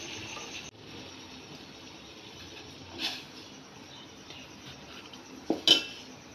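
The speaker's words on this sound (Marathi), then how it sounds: "आता आपण हे पूर्ण हलवून घेऊया पीठ" Quiet scraping as flour dough for modak is stirred into boiling water in a metal pot, with two or three sharp utensil clinks against the side near the end.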